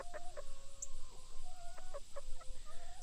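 A scared rooster being handled by a person lets out a run of short, close clucking notes, scattered irregularly through the whole stretch, with no talk.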